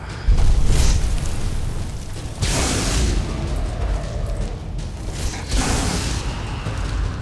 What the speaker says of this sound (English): this one is a fire dragon